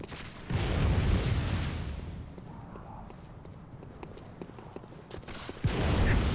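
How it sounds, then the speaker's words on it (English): Rapid enemy gunfire in the Bloodborne video game, a loud burst of shots at the start, fainter scattered reports through the middle, then another heavy burst near the end. "Can you stop shooting and actually do something?"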